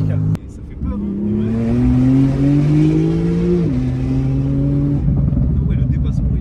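A Porsche 991.2 Turbo S accelerates hard to overtake, its engine note climbing strongly before a quick shift and renewed pull, heard from inside the cabin while someone talks.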